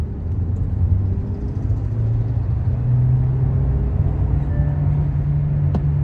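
Kia Carens MPV engine under hard acceleration toward 4000 RPM, a steady low droning hum heard from inside the cabin, moderately loud and continuous.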